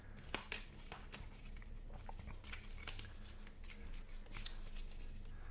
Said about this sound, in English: I will shuffle it again just to show you guys